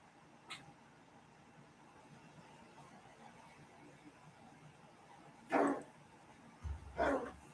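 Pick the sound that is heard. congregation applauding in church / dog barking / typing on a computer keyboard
dog barking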